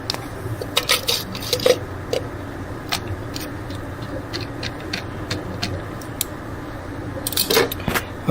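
Ice cubes clink and rattle against a cup in scattered bursts as iced black tea latte boba is stirred, close and without talk.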